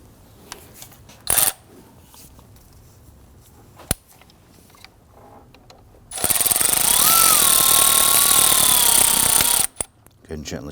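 A hose clamp screw is tightened on a 2009-2017 Volvo XC60 during an AC suction hose replacement, a loud continuous power-driver whir of about three seconds after scattered clicks and knocks.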